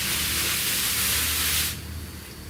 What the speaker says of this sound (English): Spray all the dust off of it.